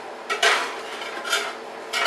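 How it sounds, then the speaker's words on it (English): Burgers flipped in a pan with a spatula, sharp metallic scrapes and clatters in three separate bursts against a quiet background, close by. "We're going to flip our burgers for the first time."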